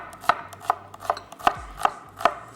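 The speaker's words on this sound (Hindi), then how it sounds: "यहाँ फिर भी ले लीजिए बड़े साइज़ की प्याज और इसको कर लेंगे स्लाइस।" A knife slicing a large onion on a cutting board, with six crisp, evenly spaced chops in steady rhythm, close and fairly loud.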